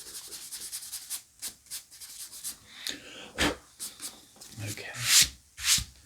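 Vintage paperback books, including Margaret Drabble novels, are rubbed clean by hand in a series of close, dry scuffing strokes that vary in length, with a brief spoken word partway through.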